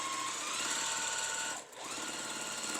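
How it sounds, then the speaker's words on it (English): A sewing machine runs a straight seam down the middle of a quilt block, a close, steady mechanical whir that stops briefly near the end and then resumes. "So I'm sewing straight down the middle."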